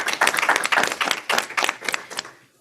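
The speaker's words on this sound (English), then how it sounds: "let's give Ntate Qindi and Ntate Makafola a round of applause" A small audience at a workshop claps for two presenters: dense, close hand claps that peak and then thin out into a few last claps before fading to quiet.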